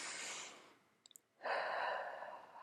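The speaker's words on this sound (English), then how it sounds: "Stop tapping, take a deep breath in." A slow, deep breath drawn in through the mouth during a calm tapping relaxation session. A long airy exhale fades out, a couple of soft clicks follow after a short pause, then a steady, close inhale runs to the end.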